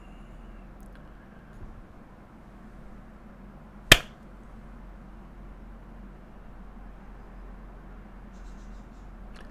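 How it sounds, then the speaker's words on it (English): A single sharp hand clap rings out near and loud in an otherwise quiet room with a low steady hum, meant to set off a camera's sound sensor. "then I'll just clap my hands and we'll trigger it"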